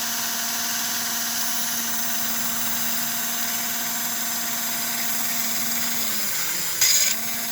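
An American Flyer Casey Jones toy train motor running at 17 volts hums and vibrates steadily, a constant close buzz that dips in pitch near the end, with no talk.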